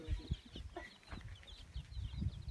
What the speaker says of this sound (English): The chicks are doing good.